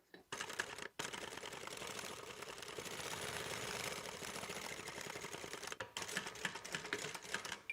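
A sewing machine runs steadily, stitching bag fabric with a brief back stitch, the motor whirring continuously for several seconds with short pauses near the start and end.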